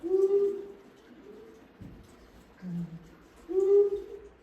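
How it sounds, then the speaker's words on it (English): A long-eared owl call played from a recording: soft, low hooting notes in three bursts spread over about four seconds, moderately quiet, with no talking over it. "I'm gonna go back so we can hear the long-eared owl again"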